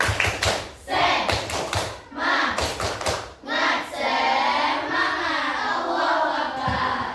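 A school class performs the rhythmic tepuk semangat clapping chant, sharp patterned bursts of claps and taps alternating with group voices chanting together, fairly loud and close.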